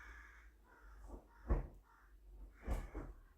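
Crows cawing outside an open door, two loud harsh caws spaced about a second apart with fainter calls between, heard from indoors at a moderate distance with no talk.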